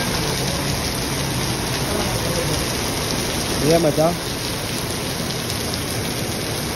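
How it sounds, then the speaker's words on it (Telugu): Steady rain falls continuously in a forest near Madanapalle, a dense even hiss throughout, with someone talking briefly over it partway through. "4-5 రోజుల నుంచి కంటిన్యూగా వర్షం ఇట్లే ఉంది."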